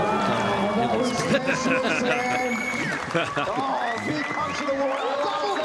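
A big crowd cheers and claps at the Red Bull Cliff Diving World Series final stop in Sydney, Australia, a steady roar of voices with a commentator talking over it throughout.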